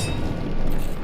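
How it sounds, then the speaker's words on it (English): Explosion on an enemy's back in Resident Evil 4, a loud, dense, sustained boom and rumble filling the short moment with no talk. "the explosion on his back made a sound"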